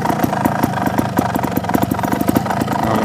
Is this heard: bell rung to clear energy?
no